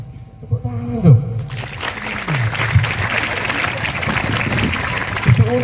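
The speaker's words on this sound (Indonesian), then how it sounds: "Tepuk tangan dong" At a Maulid Nabi gathering in a school, an audience breaks into clapping that builds and holds steady, with a voice chanting over it at the start and again near the end.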